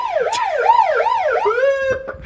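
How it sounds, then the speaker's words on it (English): Police-style siren on a Ghostbusters Ecto-1 car, loud and close, wailing up and down in quick repeated sweeps before settling into a steadier tone, with no voices. "It's got full cop car sirens."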